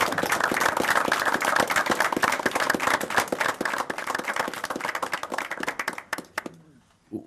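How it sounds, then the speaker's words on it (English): Applause at a committee meeting for Judge Lillian Cottrell: a dense round of clapping that holds steady for several seconds, then thins out and stops abruptly. "Guys, help me in giving Judge Lillian Cottrell a huge round of applause."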